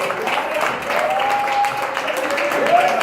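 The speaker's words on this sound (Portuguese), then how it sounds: "pode aplaudir mesmo se você crê" Church congregation applauding during a service, a steady wash of clapping with a few voices mixed in.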